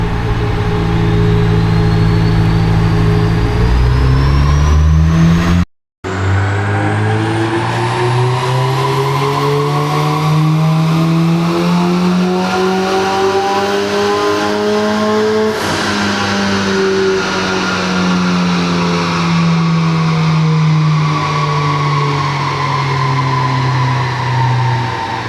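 A tuned car's engine drones loudly during a power pull, its pitch climbing steadily before a brief gear-change dip, then rising and easing off again, heard from inside the car with no talking.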